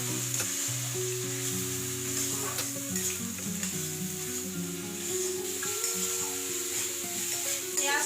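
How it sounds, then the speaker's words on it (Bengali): Onion paste with ginger-garlic paste and cumin frying in oil for a tilapia curry gives a steady, close sizzle with soft stirring, while faint tonal music runs underneath. "এবার পেঁয়াজটা একটু ভালো করে কষিয়ে নেব।"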